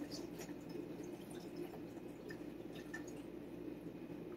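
Bottled water trickles and drips into the top reservoir of a coffee machine. The pour is soft and close, a steady faint splashing under a low hum, with no voices.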